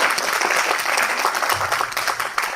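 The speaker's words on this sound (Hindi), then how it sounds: "एक बार जोरदार तालियां बजा दीजिए।" Loud, dense applause from an audience at a Hindi poets' gathering, a sustained wash of many hands clapping close by with faint voices mixed in.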